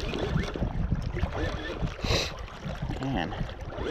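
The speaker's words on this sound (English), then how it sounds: "Camera probably got a lot of wind noise and wave noise on the camera." Wind buffets the microphone on a large reservoir bank while waves lap at the shore during bank fishing for catfish, a steady rumbling roar with gusty swells throughout and no speech.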